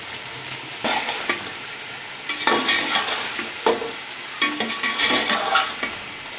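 Chicken pulao is stir-fried over high flame, with a steady sizzle broken by repeated scraping strokes of a spoon against the pot at an uneven rhythm, up close.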